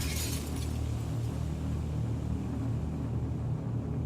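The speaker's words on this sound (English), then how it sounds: "A chair was then thrown at the glass from the inside." Glass shatters as a chair smashes through a glass wall in a brief bright burst at the very start, then fades into a low, steady rumble.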